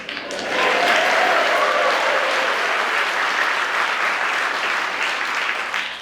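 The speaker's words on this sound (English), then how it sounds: "If only it was that easy to get applause all the time." Steady, full audience applause at a chamber music concert for a string quartet, rising quickly and holding as loud continuous clapping for several seconds before easing slightly.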